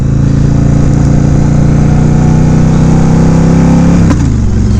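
A Yamaha V Star 1100 Custom V-twin motorcycle engine runs loud and close with a steady throbbing drone, shifting pitch near the end as a brief pop sounds from the exhaust.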